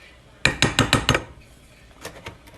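A spoon clinks rapidly against a bowl while brown sugar and honey are stirred together, about six bright metallic taps in a quick rhythm, followed by a few fainter scraping clinks, close and loud.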